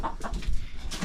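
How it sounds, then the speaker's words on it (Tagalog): A chicken clucks a few short, close bursts in a brief moment, with faint background noise. "Nakahuli tayo ng manok."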